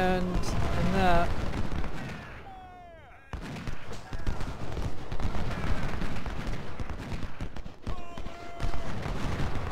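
Gunfire in the Civil War strategy game Ultimate General: Civil War: rolling volleys of musket shots and booming artillery, mixed and continuous, with someone talking over the battle.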